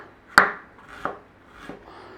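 Three separate knife strokes slicing through ginger on a board, steady and spaced roughly every 0.7 seconds, each a crisp close chop. The first is loudest and the later two are softer, with no talk.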